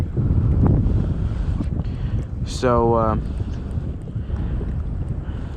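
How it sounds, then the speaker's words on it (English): A boat's outboard motor runs in shallow creek water while pushing through mud, a low churning drone under heavy wind buffeting, with a brief sharp tonal whine partway through and someone speaking briefly. "It's actually getting shallow where my motor's pushing mud."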